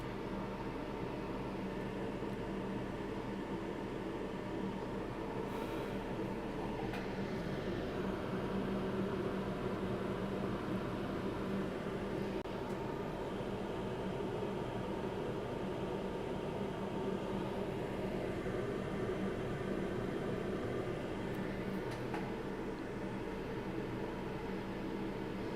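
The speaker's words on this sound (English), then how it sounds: "Oh, better turn on the extractor." A fume extractor hums steadily in a small electronics workshop, giving an even, low broadband whoosh of fan and airflow that stays constant and moderately quiet throughout, with no talking.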